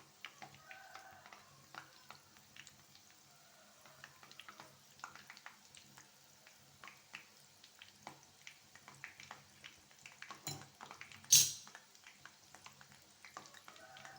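Medu vada deep-frying in hot oil over a medium flame, a soft, steady sizzle with crackling pops and light stirring clinks, plus one louder clatter near the end.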